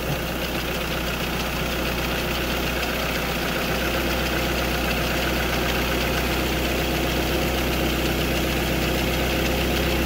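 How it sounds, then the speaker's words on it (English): A Ford Fiesta MK6 engine idles just after an oil change, a close, steady, loud rumble with a low drone and a faint ticking texture running unchanged throughout. "we're going to start her up here now. I'm checking for leaks."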